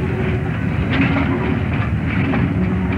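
British Rail Class 31 Brush diesel locomotive running on the line, a steady rumbling drone with faint rail clatter throughout.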